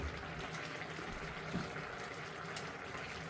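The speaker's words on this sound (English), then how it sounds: "Add a little more water, cover the pan, and continue cooking on low heat." Water pours into a seafood paella pan while cooking on a boat at sea, a steady rushing, bubbling wash of liquid lasting throughout with no voices.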